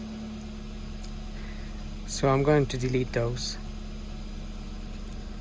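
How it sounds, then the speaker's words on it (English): A Toyota Yaris Verso 1.3 engine with an idle control valve fault idles with a steady low hum throughout while someone speaks briefly in the middle. "the idling has settled at around 700 or 800"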